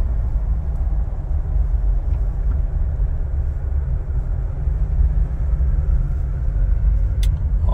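A 2006 Jeep Wrangler Rubicon drives at operating temperature, its engine and road rumble heard as a loud, steady low drone from inside the cabin, with a brief faint tick near the end.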